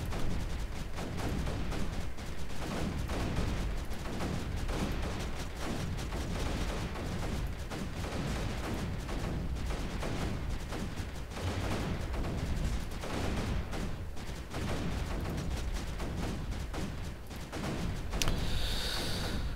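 Mortar and pulse cannon fire in the Creeper World 3 video game, a dense, continuous barrage of rapid gunfire-like shots and blasts at steady loudness throughout, with no talking.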